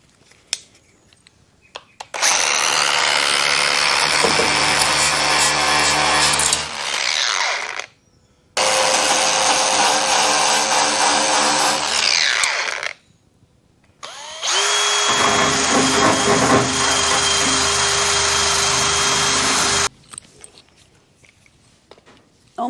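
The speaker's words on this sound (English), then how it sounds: "I just switched to a larger wire wheel, it just fits in there a bit better." Power tool fitted with a larger wire wheel scrubs surface rust off the steel cab of a Holden one tonner, running in three long loud grinding bursts separated by brief pauses, with no talk.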